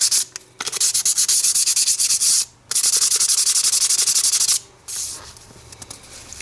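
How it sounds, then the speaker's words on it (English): Rapid, rhythmic scratchy rubbing of 400 grit emery sandpaper on a snowblower part, close up, in several bursts separated by brief pauses. "I'm going to rub it with a 400 grit emery sandpaper."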